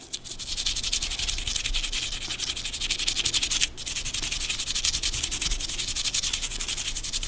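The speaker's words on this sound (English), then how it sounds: "Quick little scrub on the face." A brush scrubs the face and back cover of a G-Shock watch, making a steady, close, rapid rasping scrub that runs continuously with one brief pause.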